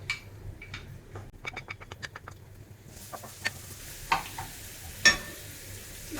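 Garlic frying in hot oil in a wok, with a run of quick crackling pops and spits close up, then a few scattered sharper sizzles and clicks of a utensil.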